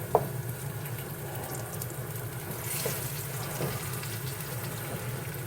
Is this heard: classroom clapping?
no